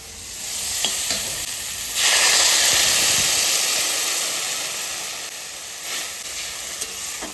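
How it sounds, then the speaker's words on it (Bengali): Water poured into a pan of frying pipul greens sets off a loud burst of hissing steam that swells, then slowly settles back into a softer sizzle with a few light clinks. "এবার আমি জল দিয়ে দেবো"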